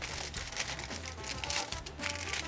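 Aluminum foil torn from a roll and crinkled in a home kitchen while baking bowtie lasagne, a steady stretch of close crackling and rustling with no talk over it.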